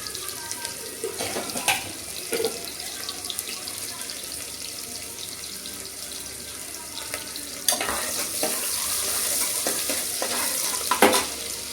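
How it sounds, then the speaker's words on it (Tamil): Soft sizzling of small onions tempering in hot oil with occasional stirring scrapes and clinks, a steady crackle that grows a bit louder near the end. "சின்ன வெங்காயம் கொஞ்சம் ஒரு 50 கிராம் வெங்காயத்துக்கு தாளிச்சு விட்டுருவோம்."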